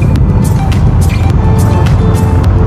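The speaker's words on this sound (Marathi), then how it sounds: "विकी गाडी चालवतोय." A car is driven along a road, its engine and road rumble loud and steady throughout with faint ticks and rattles, close inside the vehicle.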